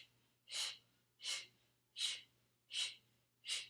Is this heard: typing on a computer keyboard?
no